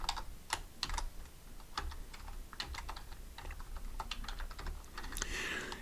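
HTML code is typed on a computer keyboard in quick irregular bursts of crisp key clicks, close and fairly quiet, with short pauses between runs of keystrokes.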